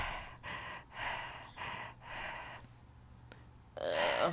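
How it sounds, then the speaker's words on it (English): Heavy, labored breathing from a character in Heavy Rain: about five rhythmic, close breaths in quick succession, a short quiet pause, then a louder final breath. "I really don't like his heavy breathing."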